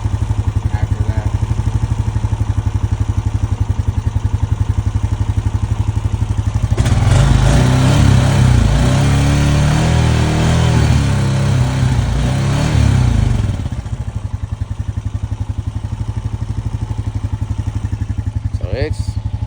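A 2025 Honda Rancher 420 ATV engine idles while warming up, a loud steady close putter that rises into a rougher throttle surge midway before settling back, with someone speaking over it.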